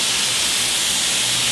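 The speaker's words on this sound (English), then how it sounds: "I'm gonna go put my paint mask on and start spraying down the car" A steady, airy hiss of an HVLP paint spray gun coating a car with dip, broad and even like compressed air forcing paint through a nozzle, close by with no voices.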